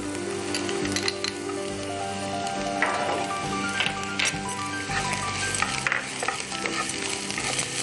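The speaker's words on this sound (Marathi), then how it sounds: "त्याच्यामध्ये आता आपल्या पहिल्यांदा कांदा परतून घ्यायचा आहे" Chopped onion sautéing in hot oil in a pan, a continuous close sizzle broken by spoon stirring and light scrapes throughout, with no one speaking.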